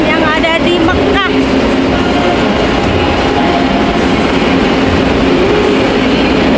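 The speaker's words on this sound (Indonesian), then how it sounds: "Nah ini dia ya kereta cepat Haromain yang ada di Mekah." The Haramain high-speed train in Mecca gives a loud, continuous rumble and rolling noise, with brief squealing chirps near the start over a steady roar.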